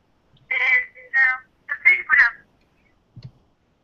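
A telephone sound, a series of short electronic chirping tones in bursts of two or three, fairly loud and close, followed by a faint low thump.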